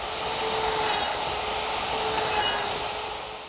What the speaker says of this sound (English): Just a matter of routing out the holes that I want.